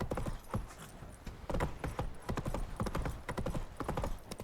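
Roach, a horse in The Witcher 3 Blood and Wine, gallops with a fast, uneven clatter of hoofbeats, close and fairly loud, with no one speaking over it.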